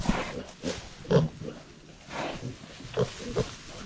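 Piglets grunting in straw, a series of short close grunts and snorts spaced irregularly over a few seconds, moderately loud against a quiet barn background.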